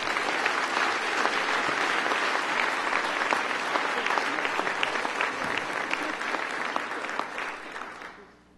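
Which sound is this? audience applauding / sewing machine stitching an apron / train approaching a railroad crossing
audience applauding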